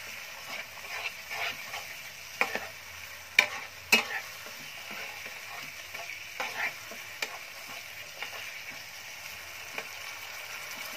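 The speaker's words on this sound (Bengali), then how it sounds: "এবার এটাকে আমি ভালো করে কষিয়ে নেব" A spiced radish mixture with lemon juice is sautéed in a pan under a soft, steady sizzle. Frequent scraping and tapping strokes of the spoon break through the hiss at an uneven pace.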